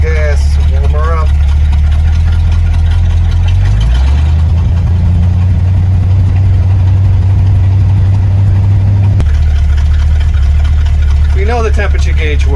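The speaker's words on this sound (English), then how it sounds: "Give it a little gas, warm her up." A car engine idles with a deep, steady rumble, then rises in pitch under a gentle throttle as it warms up and settles back. Brief voices are heard at the start and end.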